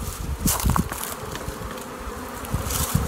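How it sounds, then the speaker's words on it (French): Honeybees buzz steadily around brood frames at an opened hive, close and dense, with a few sharper knocks and rustles of the frames being handled. "les abeilles qui sont revenues, elles se sont regroupées sur le couvain"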